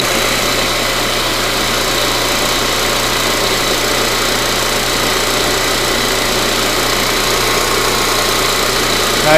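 A vacuum pump hums steadily and loudly throughout, evacuating the sealed refrigeration system of a Sub-Zero 424 wine cooler under repair, with an even, unbroken drone and no talking.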